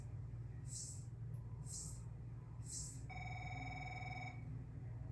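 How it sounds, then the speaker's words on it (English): A phone rings in the F1 23 racing game, three soft repeated chirps followed by a steady electronic tone, faint beneath a constant low hum. "sure we'll have a phone call here."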